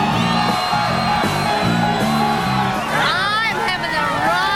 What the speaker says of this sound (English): all you can see is a sea of faces and hands, and everybody's yelling